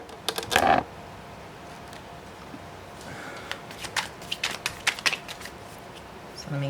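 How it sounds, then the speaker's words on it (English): Tarot cards being shuffled by hand, giving a short riffling burst at the start followed by a series of soft, quick flicking and tapping bursts, quiet and close, with someone speaking. "So let me give the cards a really good shuffle"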